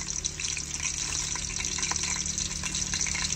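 Food browning in a pan, cooked inside a truck: a steady, loud sizzle and crackle of frying that runs throughout, with faint stirring scrapes and no talk.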